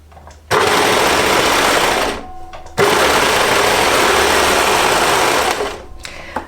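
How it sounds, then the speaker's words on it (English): Sewing machine stitching stretchy cardigan knit fabric with the differential feed raised, running in two loud continuous bursts separated by a short pause, then slowing to a stop, with no talking. "I'm going to sew this in place."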